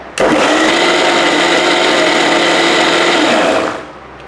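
A mixer grinder jar grinds coconut for appam batter, a loud steady whirring motor hum that runs alone for about three and a half seconds before winding down.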